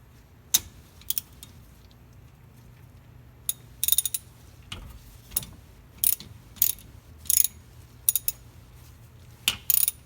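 A ratchet loosens bolts on the rear axle cover of a 1988 GT, making short bursts of sharp, close clicking separated by quiet gaps.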